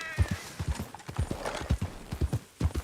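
Horse hooves clip-clop at a steady walking rhythm on the ground in Red Dead Redemption 2, close and clear, with a faint neigh and light background ambience.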